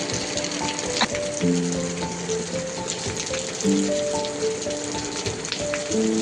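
Heavy rain pours steadily onto a surface outdoors, a dense continuous patter with scattered drops, while faint tonal music-like lines run underneath.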